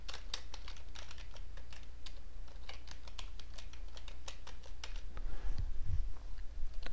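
Rapid computer keyboard typing for several seconds, close and steady, with a louder burst of key strikes near the end while setting up a search for opening PDF files in JavaScript.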